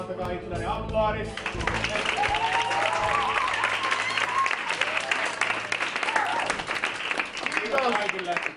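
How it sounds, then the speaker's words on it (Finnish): A film crew breaks into loud, continuous applause at the end of a shoot day, dense clapping filling the space after a brief spoken line at the start. "Antakaa itselleni aplodit."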